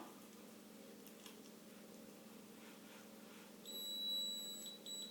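A galvanic spa treatment device emits high electronic beeps in a quickening sequence near the end of its treatment cycle, thin and fairly quiet over a low room hum; no voices.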